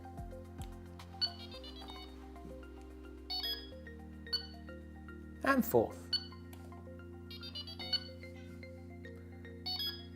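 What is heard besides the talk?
Delkim bite alarms sounding while pairing to Rx-D receiver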